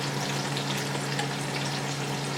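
Ground tomato going into ginger-garlic paste frying in a pan for dal gosht gives a steady, dense, close sizzle that holds level throughout with no talk.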